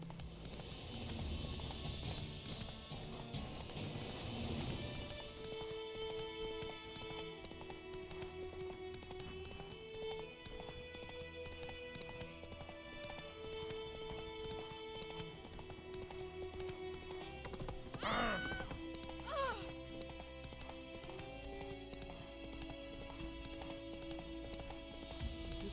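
Roach the horse gallops in The Witcher 3: Wild Hunt, a steady run of hoofbeats alongside continuous game music, with a brief sharp sweep near the end.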